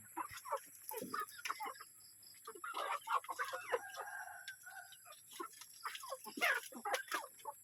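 Chickens clucking and a rooster crowing while being fed at around six in the evening on a rural homestead, a busy chorus of near and mid-distance calls with no talking.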